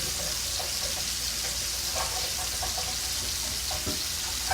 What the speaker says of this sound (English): I'm going to rinse my skillet out so that I have one more